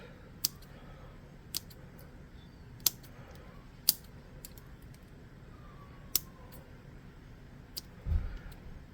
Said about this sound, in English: I'm going to get little scissors for this because this is kind of a delicate deal.